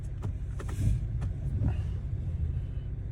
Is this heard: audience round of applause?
no